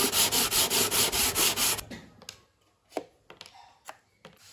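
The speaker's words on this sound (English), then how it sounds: "Another bit of sanding." Wood on a vintage 1960s Veron Caribbean Coaster model boat is sanded by hand in about nine quick, even back-and-forth strokes. The strokes are close and clear, then stop, leaving a few light knocks and taps.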